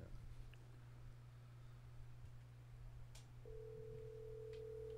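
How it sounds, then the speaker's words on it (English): Outgoing phone call ringing faintly on a low line, a steady hum underneath and a single sustained tone coming in near the end, with no talk. "It's ringing. Really low."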